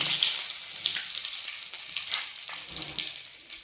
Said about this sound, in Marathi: तेल गरम झालं आहे तर ह्याच्यामध्ये टाकत आहे चिमूटभर मी हिंग आणि हे तेजपत्ता